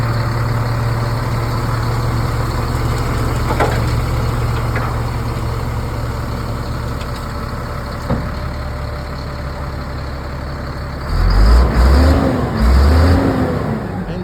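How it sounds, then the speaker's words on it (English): Diesel engine of a 1999 Freightliner FL70 dump truck running steadily at close range, a deep continuous idle rumble that swells into a couple of louder revs near the end. "Engine sounds nice and strong."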